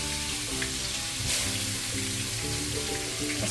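Pepper and salt sautéing in a pan for ginataang labong, a bamboo-shoot and coconut-milk dish, giving a steady close sizzle that runs through the whole stretch beneath a faint tonal hum.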